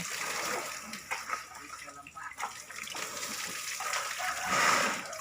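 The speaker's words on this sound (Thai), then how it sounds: "อันนี้วันที่สองของการเล่นน้ำของแม่งคิดนะคะ" An elephant splashing and playing in water on a hot day, continuous sloshing, gushing and splattering close by, with a voice faintly heard at times.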